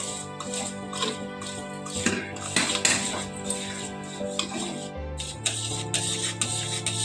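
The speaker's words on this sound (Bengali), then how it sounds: "গ্যাসের আঁচটা বাড়িয়ে দিয়ে গুড়টা নাড়ছি।" Jaggery stirred in a pan over raised gas heat while making puffed rice sweets, repeated metal scraping and clinking strokes at a busy uneven rhythm, close and fairly clear, no speech.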